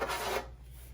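Novus 3 polish rubbed onto scratched plastic on an arcade or pinball part, a brief close rasping scrub that fades after a short stroke.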